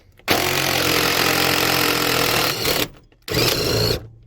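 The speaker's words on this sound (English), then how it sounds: "I'm using a 1/2-inch impact with an adapter down to 3/8 on non-impact socket" Two loud, close bursts from a 1/2-inch impact wrench driving a 3/8 non-impact socket through an adapter on a Duramax cab bolt: a long rattling hammer of about two and a half seconds, a short pause, then a second burst of under a second.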